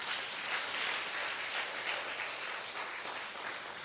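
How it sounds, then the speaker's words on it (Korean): Congregation applauding at a church mission talk, a soft, distant wash of many hands clapping steadily, even and sustained, heard alone with no speech. "주님께 영광의 박수 돌리겠습니다"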